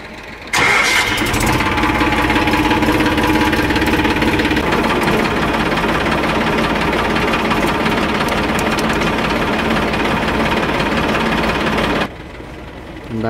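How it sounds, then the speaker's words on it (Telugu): A tractor engine cranks and catches, then runs loud and steady with a rough, knocking diesel clatter for about eleven seconds before cutting off, its PTO gear engaged to drive a rotavator. "ఇప్పుడు ఒకసారి ట్రాక్టర్ని స్టార్ట్ చేసి పీటీఓ గేర్ వేద్దాం"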